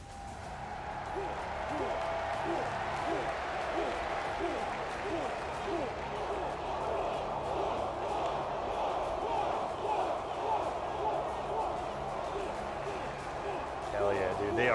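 Dense crowd noise at an ECW wrestling show during ring entrances: sustained cheering and clapping from a large audience, steady and fairly distant throughout, with scattered shouts and claps rising out of the mass.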